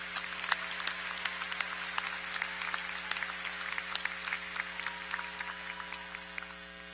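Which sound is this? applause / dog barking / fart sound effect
applause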